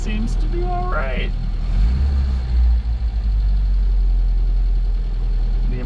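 A 1967 Volvo Amazon 122S idles with the choke pulled halfway out, a steady deep engine rumble heard from inside the car, with a brief voice over its start and a couple of small dips in the engine note.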